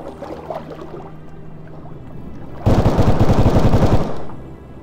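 Muffled rapid underwater rifle fire with cavitating ammunition in the game ArmA III erupts midway, a fast burst of heavy thuds lasting about a second and a half over a dull underwater ambience.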